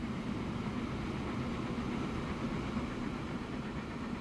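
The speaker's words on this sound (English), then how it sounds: "I should be getting a little train service come through here momentarily. By train service, I mean this gigantic oil train" A gigantic oil train in Transport Fever 2 rumbles past as a steady, loud low roar, holding evenly for several seconds with no talk over it.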